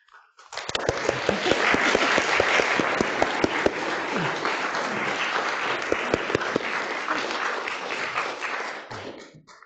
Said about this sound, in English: I propose uh, we all have a clap for the organizers.